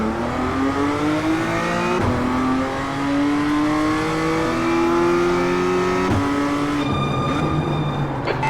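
BMW M2 race car in a racing game pulling away from a standing start, engine revving hard and climbing through several upshifts, loud and close, with a rougher burst near the end.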